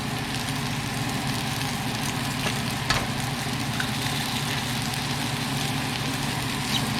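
Two eggs fry in a hot pan alongside shrimp fried rice, giving a loud, continuous hissing sizzle that holds steady throughout, with a faint clink partway through.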